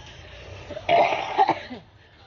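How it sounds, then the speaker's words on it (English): A single rough, gulping cough with a burp-like quality bursts out close up, then trails off into a quieter breathy follow-up. "I get this really weird burp cough."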